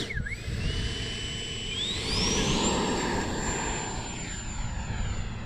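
An E-flite Viper RC jet flies at a windy field, its loud, steady turbine-like whine sweeping upward in pitch as it accelerates past, with constant wind rumble underneath and no talk.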